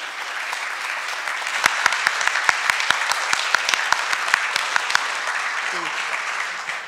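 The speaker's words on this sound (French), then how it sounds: "je souhaiterais d'abord vous applaudir et vous remercier encore une fois d'être venu ici à Sofia." An audience at a tribute event honouring Romain Gary in Sofia breaks into sustained applause, dense, even clapping filling the room with a few sharper claps standing out.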